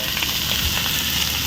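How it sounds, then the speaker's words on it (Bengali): Soy sauce sizzles and spits in a hot frying pan while being stirred for egg chicken pasta, a steady close hiss with faint scraping underneath. "এবার দিয়ে দেব সয়া সস। ভালো করে নাড়িয়ে চাড়িয়ে নেব।"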